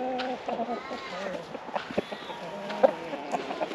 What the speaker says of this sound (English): A lot of chooks and roosters hanging around.